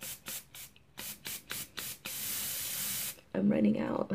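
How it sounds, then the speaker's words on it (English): A nearly empty aerosol can of dry shampoo sputters in several short puffs, then lets out one longer steady hiss close by, followed by a voice speaking. "And then I like to get the dry shampoo."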